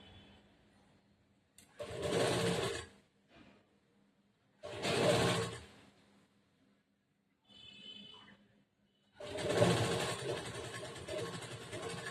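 A sewing machine stitching a princess-cut blouse runs in three short bursts of whirring, separated by quiet pauses, each burst loud and close with a quieter mechanical shuffle between them.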